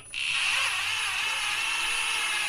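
A power drill spins the oil pump of a 1959 Chevy Apache engine through the distributor opening, giving a steady, loud high-pitched whine that starts abruptly and holds constant, with no talking.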